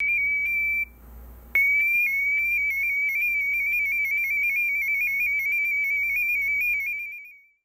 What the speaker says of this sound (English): this is what THOR 16 would sound like compared to THOR 8